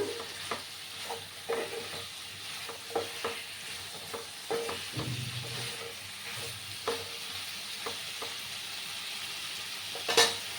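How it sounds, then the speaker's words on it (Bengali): Pumpkin and potato pieces are stir-fried in a pan, with a soft steady sizzle under repeated light scrapes and clinks of a spatula turning the vegetables; no talking. "দিয়ে একসাথে ভালো করে আমি কষিয়ে নেব।"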